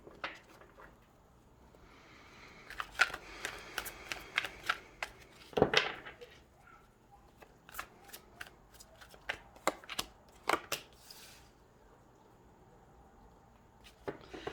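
Tarot cards being shuffled, a run of crisp riffling flicks and snaps that bunch into quick bursts with pauses between, close and fairly quiet, with no talking.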